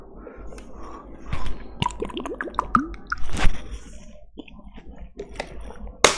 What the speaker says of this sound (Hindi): तब तक मैं पानी भी पी लेता हूं।